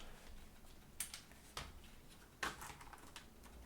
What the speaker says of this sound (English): let's see if the keyboard can pop out now.